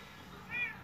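A street cat gives a single short meow partway through, heard against a quiet background with no speech over it.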